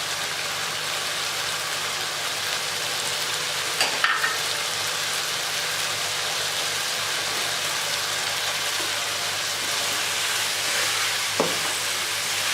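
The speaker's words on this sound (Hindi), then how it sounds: "अब हम इसको अच्छी तरह भून लेते हैं।" Chicken frying for Mecca chicken biryani gives a steady sizzle with occasional stirring clatters, and a low hum runs underneath throughout.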